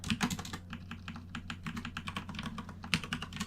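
Loud computer keyboard typing, a dense clatter of quick sharp keystrokes close up with a steady low hum underneath.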